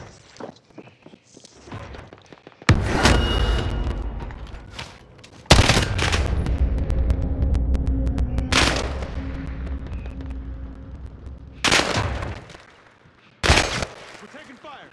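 Bursts of gunfire in Call of Duty: Warzone, loud broadband volleys and sharp shots arriving in several separate bursts, with quieter stretches between them.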